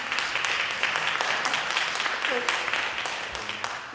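School board meeting audience clapping, shouting and yelling during a debate over student masks, a loud dense burst of applause with sharp individual claps and scattered yells throughout.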